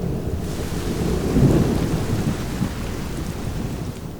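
A steady, dense wash of heavy rain, broad and continuous, with a low rumble swelling briefly before easing back into the downpour.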